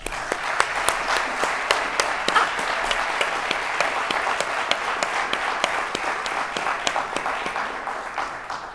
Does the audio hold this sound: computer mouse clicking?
no